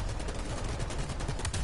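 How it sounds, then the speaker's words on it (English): A big cannon fires in the War Thunder combat game, a dense burst of rapid, loud booming reports packed together with no gaps. "Big cannon."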